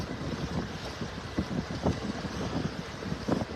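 Wind gusts across the beach in North Naples, Florida, buffeting the microphone with uneven, rumbling bursts over a low steady rush, with no voices.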